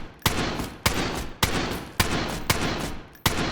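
Video game gunfire from The Day Before hits a raid frame, six evenly spaced single shots cracking over a steady background rumble with no talk.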